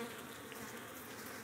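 Honey bees buzzing around an open hive frame, a soft, continuous swarm hum at moderate distance with no voices.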